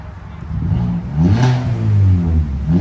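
A 2022 Hyundai Venue with a 1.6L engine and a deleted muffler revs loudly up close, its exhaust droning and rising in pitch through two throttle blips before dropping back.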